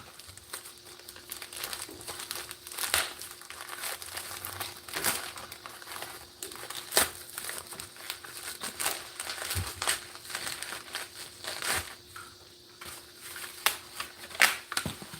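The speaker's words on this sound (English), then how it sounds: "let's go ahead and open up this here package" Crinkling plastic and paper wrapping rustles and crackles while someone opens a mailed package holding a retro NES game, with irregular bursts close by, fairly quiet and with no talking.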